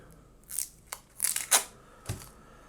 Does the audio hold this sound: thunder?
no